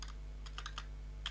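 Keys tapped on a computer keyboard in a quiet room: a handful of light, uneven clicks in short bursts over a low steady hum.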